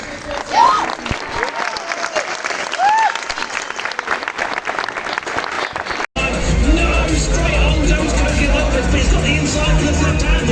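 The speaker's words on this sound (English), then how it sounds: "Please give a big round of applause to our guests and reporter." An audience at a Gran Turismo World Series Round 1 event in London applauds the guests and reporter, with sustained dense clapping and some cheering that briefly cuts out, then resumes fuller and louder.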